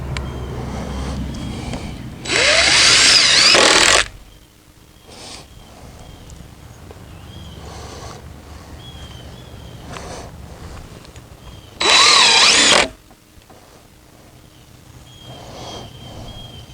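Power drill driving deck screws into wooden vehicle gate pickets, two loud bursts of a few seconds each, separated by quieter background noise.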